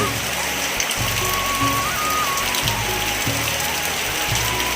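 Heavy rain pours steadily in a constant loud wash in a village in West Bengal, with a low rumbling hum of occasional thunder and faint tones underneath.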